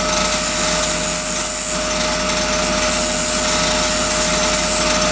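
An ash maple bowl spins on a lathe while a scraper on a tool rest rounds off the edge, giving a loud continuous scraping and rubbing drone with a steady whine, close up and without speech.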